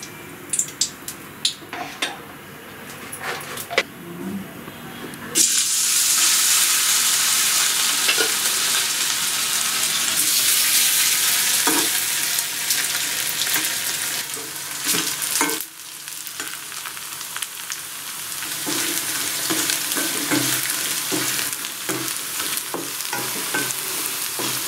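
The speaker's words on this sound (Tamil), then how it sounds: "இப்போ எண்ணெயில் போட்டு பொரிச்சு எடுக்கலாம்" Spiced bottle gourd pieces deep-frying in cold-pressed groundnut oil bubble and sizzle loudly and steadily up close, broken by the clink and scrape of a metal ladle against the pan.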